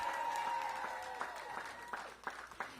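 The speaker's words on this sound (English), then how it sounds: "Give yourselves a round of applause." DC government employees applaud at a welcome-back event with the mayor, a fairly faint, continuous clatter of many hands from a large room, thinning toward the end, with a voice briefly audible.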